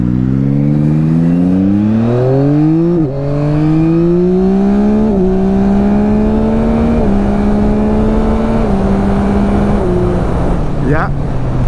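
A 2021 Yamaha MT-09 SP motorcycle accelerates hard through the gears, its engine note climbing steadily with distinct shift dips, loud and close with steady wind rush under a spoken voice.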